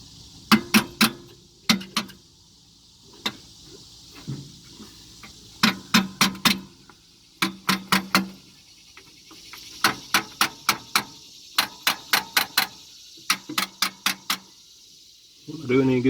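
Quick clusters of sharp metallic taps strike a part on a 1951 Ford F1 engine, coming in bursts of three to six with short pauses between, close and clear.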